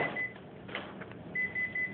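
A Konica Minolta copier emits a steady electronic beep tone that cuts out briefly, with soft mechanical clicks and hum, then resumes.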